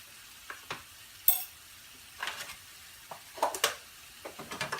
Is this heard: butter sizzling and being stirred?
yes